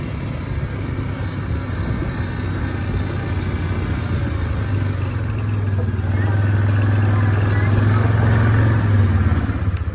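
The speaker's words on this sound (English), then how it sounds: "let's get back on our four-wheeler and you on your moped and head back to the house" A four-wheeler and a moped drone steadily nearby, a low motor hum rising slightly in pitch, with a voice speaking faintly over the noise.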